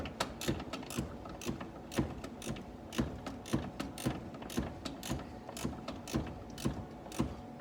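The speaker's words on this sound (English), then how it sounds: "So right now I'm tightening it back down so we can clean the threads." A ratchet wrench tightens the battery terminal bolt on a 2010 Chrysler Sebring, giving a steady run of sharp, close clicks at a quick, even pace.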